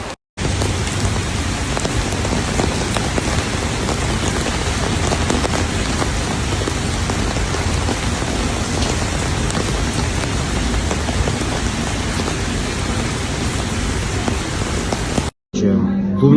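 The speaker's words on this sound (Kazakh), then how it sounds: "Осылай жаңбырдың астында жүріп," Heavy rain pours steadily and close around someone walking outdoors, a loud continuous hiss of drops lasting throughout, cutting out briefly right at the start and again near the end.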